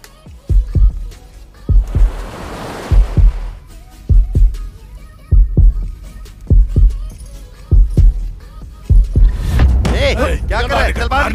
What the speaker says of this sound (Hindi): मेरा दिल और तेजी से धड़कने लगा